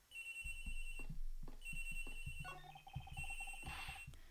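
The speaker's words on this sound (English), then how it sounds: "The ringing is coming from somewhere around here." A cell phone ringtone in the video game Ace Attorney Investigations: a repeating electronic ring pattern over a game music bed with low percussive hits, fairly loud and in regular bursts.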